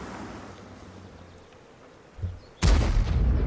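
A single heavy tank gun shot in the video game World of Tanks, a sudden loud blast that breaks a quiet stretch and rumbles on afterward.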